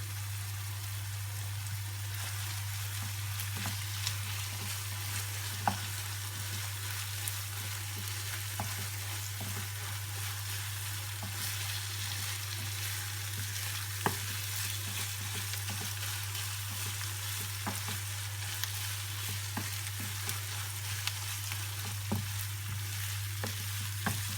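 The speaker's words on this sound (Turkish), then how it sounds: "Güzel bir şekilde karıştırıyorum." İçli köfte filling with tomato paste and crushed walnuts is stirred in a pan, giving a steady soft sizzle with scattered light scraping clicks throughout, close and even, with no talking.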